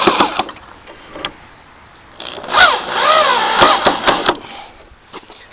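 A power driver sinks screws into a wooden box, giving short whirring bursts that rise and fall in pitch, with a few brief clicks between drives, close and fairly loud.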